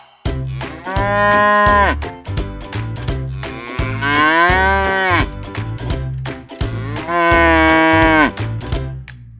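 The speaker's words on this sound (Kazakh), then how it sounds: "Сиыр му, му дейді." A cow moos loudly three times, long drawn-out lowing calls separated by short pauses, close and clear, with a few low thumps between.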